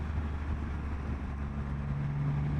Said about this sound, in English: The exhaust is really pleasing. It's deep, it's throaty, but it's not that loud.